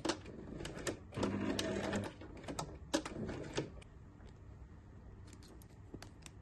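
A sewing machine top-stitches a bag strap on a roll-up bag. Quiet bursts of rapid mechanical stitching come with ticking clicks, then taper into sparse light clicks.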